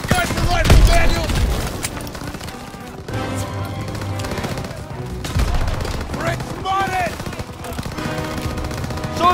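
Heavy gunfire in a Call of Duty: WWII battle during Operation Cobra, with loud overlapping rifle and machine-gun bursts and booming impacts running continuously through the battle noise.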